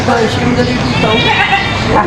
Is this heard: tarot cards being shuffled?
no